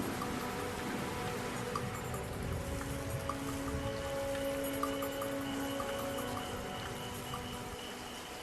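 Steady rain falling across the open African plain, a dense continuous hiss of drops that holds at an even, moderate level throughout with no voices.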